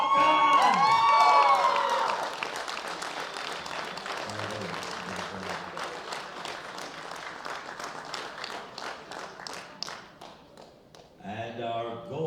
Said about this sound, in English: A big round of applause for Sebastian Dauda Bakken!